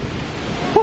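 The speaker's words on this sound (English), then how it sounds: "Look at this epic waterfall." Roaring waterfall in Iceland, a steady broadband rush of falling water close by, with a brief raised voice near the end.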